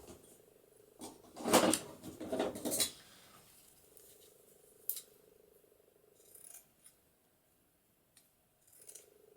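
Scissors snipping through thin cheesecloth for a junk journal, a cluster of crisp cuts in quick succession followed by a few sparse, softer snips, close and alone in a quiet room with a faint steady hum.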